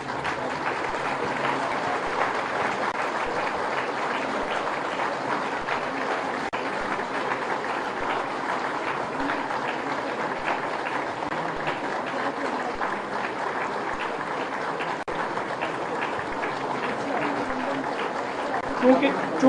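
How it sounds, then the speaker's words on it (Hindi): A crowd at a government energy project inauguration gives a standing ovation to the chief minister, a long, steady wash of clapping that continues evenly throughout, with voices mixed in. "आप सभी लोग उनके स्वागत और अभिनंदन में खड़े होकर के 5 मिनट तक तालियां बजा"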